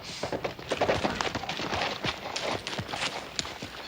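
Horse hooves clip-clopping in an uneven walking rhythm on hard ground, close and steady throughout.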